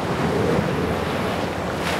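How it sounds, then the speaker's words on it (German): Icy wind at sea during a sailing race in the Volvo Ocean Race, a constant loud roaring rush of wind and surf buffeting the microphone without pause. "Eiskalter Wind."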